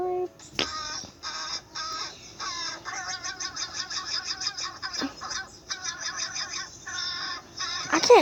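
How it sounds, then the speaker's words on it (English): Crow or raven calling in a series of harsh, repeated caws with short pauses, close and fairly loud, mixed with other bird cackles and chatter. "That's a crow or a raven."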